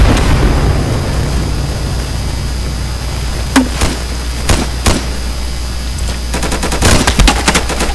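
Gunfire in the Insurgency video game, with sharp, loud shot bursts and rapid automatic volleys cracking through steady background noise, especially a quick string of shots near the end.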